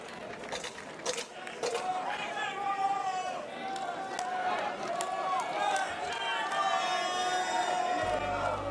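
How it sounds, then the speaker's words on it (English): An American crowd at an IMCF 2017 five-on-five armoured combat event cheers and shouts continuously, a loud, dense roar filling the hall with overlapping voices. "you can tell it's going to be a loud one with the Americans all cheering on their fighters"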